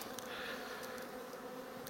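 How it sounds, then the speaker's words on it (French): Bees buzz in a soft, continuous drone close by, faint and steady with no talking. "il faut enlever les 3 abeilles qu'il y a dedans"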